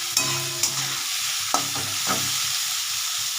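Onions frying in a pan over a gas flame, a steady close sizzle with a few sharp spatula scrapes and clinks against the pan, no voices.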